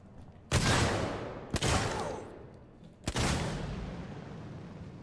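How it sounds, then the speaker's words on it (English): Video game gunfire rings out in three loud, booming bursts spaced about a second or two apart, each trailing off into a rumbling decay. "Who just shot at you?"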